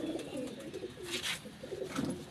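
A pet pigeon, of the kind kept as a hobby, coos close by in soft, low, rolling notes that repeat steadily, with faint higher chirps among them and no talk.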